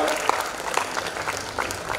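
Audience applause at a gala cultural night, a steady patter of many hands clapping with some sharper individual claps, fairly loud, with voices faintly mixed in.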